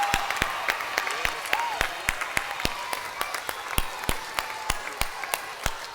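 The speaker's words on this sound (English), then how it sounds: "let's give a big round of applause to our teachers who brought you here today." An audience at a children's music education concert claps in loose, scattered rhythm, with individual sharp claps spaced out rather than a dense roar, under light background murmur.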